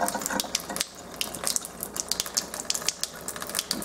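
Tap water runs steadily from a faucet into a sink, a continuous close splashing hiss with small irregular clicks and pops, no voices over it.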